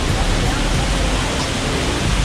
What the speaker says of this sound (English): So at the back of me, that is Aling-aling Waterfall.